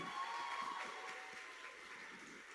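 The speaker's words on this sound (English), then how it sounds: "So give yourselves a massive big round of applause." Applause fills the room at a university students' union election night as candidates and campaign teams are celebrated, a steady broadband patter of many hands throughout, fairly quiet and distant.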